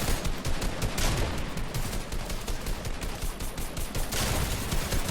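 Gunfire mowing down zombies in a Spider-Man versus Predator army video game: a loud, continuous rapid burst of machine-gun fire, shots rattling in a fast, steady rhythm for the whole stretch with no pauses.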